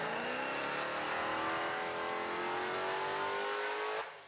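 A Nissan 350Z fitted with a Hellcat engine, running on stance tires, revs hard on a dyno, a loud sustained engine roar rising steadily in pitch for about four seconds before cutting off abruptly, with no talk over it.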